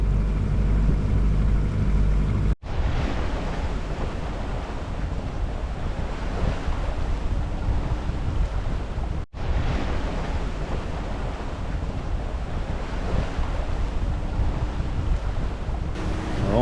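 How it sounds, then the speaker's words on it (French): A sailboat runs fast on a cold day in a crosswind, its hull pushing through waves. Strong wind buffets the microphone and water rushes steadily and loudly throughout, with no voices. "On fait de la bonne voile, rapide, vent de travers, environ."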